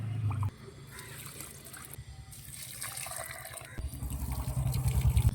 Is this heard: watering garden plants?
yes